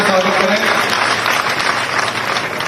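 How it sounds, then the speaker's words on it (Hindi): A crowd at a ceremony claps loudly and steadily to welcome guests, with a voice heard over the dense applause. "जोरदार ताली बजा के स्वागत करें।"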